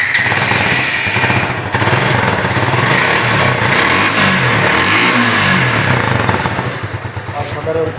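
A used 2020 Suzuki Gixxer 155cc motorcycle in matte black runs close by, its engine droning loudly and steadily with rising and falling revs throughout.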